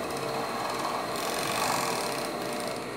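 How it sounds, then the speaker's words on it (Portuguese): A sewing machine runs continuously, stitching fabric for double-strand panties, with a dense, even mechanical whir filling the clip without pause. "Aí nós estamos aqui na máquina e nós costura, ó."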